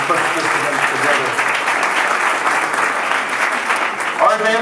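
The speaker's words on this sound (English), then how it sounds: "big round of applause to our advancement team who put this event together" An audience gives a sustained round of applause for an advancement team at a headmaster's social event, a loud, dense wash of clapping that stays steady from start to finish.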